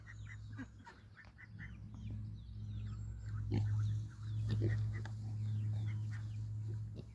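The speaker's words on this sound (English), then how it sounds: "Look at the happy piggies." Pigs on a homestead grunt and snort in a steady stream of short, close calls over a constant low hum, with a few higher squeals scattered through.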